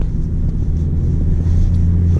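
Kia Ceed Edition #1 car driving on a road leaving a village, a steady loud low engine and road rumble continuing evenly throughout with no voices.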